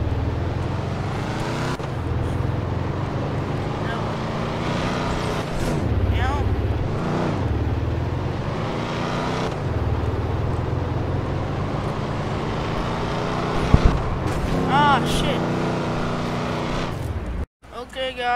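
A vehicle driving in Garry's Mod, a steady engine drone that rises and falls in pitch as it revs and shifts, loud and continuous for most of the stretch before cutting off near the end.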